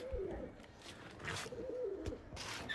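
Pigeons coo in a loft where Malbai and Madras birds are kept, a low warbling call repeating twice at moderate distance over a busy background with brief rustles.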